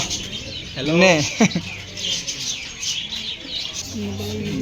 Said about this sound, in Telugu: పక్షులు చాలా రకాలు ఉన్నాయండి ఇక్కడ